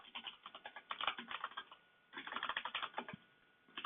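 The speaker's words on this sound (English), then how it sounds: "Oh, I'm typing." Rapid close clicking of a computer keyboard in bursts, with a brief pause midway before the typing resumes.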